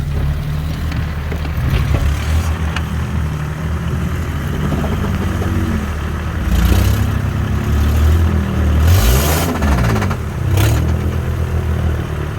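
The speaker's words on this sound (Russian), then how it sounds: "Что, наш джип поехал тоже?" A Jeep Wrangler pulls away outdoors, its engine a close, rumbling idle that swells into a couple of louder revs with some rattling clatter, with no talking.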